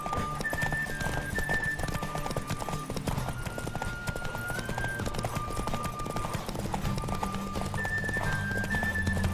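Rapid, steady hoofbeats of a galloping horse in The Witcher 3: Wild Hunt, loud and continuous with occasional whinnies, set against a droning musical score.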